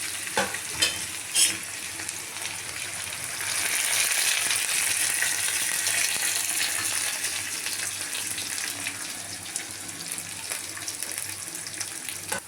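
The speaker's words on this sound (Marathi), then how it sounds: "इथे बघा आपला कांदा छान भाजून झालेला आहे" Onions, cumin and curry leaves fry in a pan with a loud, steady hiss and sizzle. A few stirring knocks come early, then a denser spitting sizzle builds and continues with no voices.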